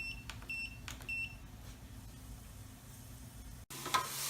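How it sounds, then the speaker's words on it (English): Homemade French fries sizzle in a lidded deep fryer, a steady frying hiss with a few faint beeps, ending in a sharp click and a brief burst of louder bubbling. "Then put them in the fryer, put the lid on, and set your timer for 3 minutes."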